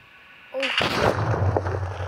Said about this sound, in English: So this is his explosion right there.